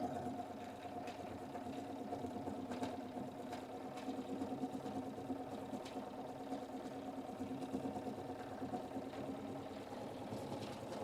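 An electric sewing machine runs steadily at medium speed while stitching a fabric tea towel, a quiet, continuous whirring hum with a fast regular needle rhythm, close by and without voices.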